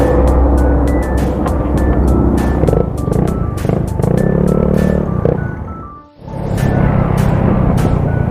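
Honda Scoopy scooter revving through a modified stock exhaust pipe, a loud close buzzing engine note with repeated throttle blips, a brief dip near the end, then rising again.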